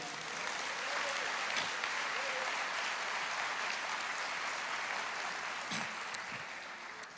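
A church congregation claps together, giving a steady, dense wash of applause that is fairly distant and holds at an even level throughout.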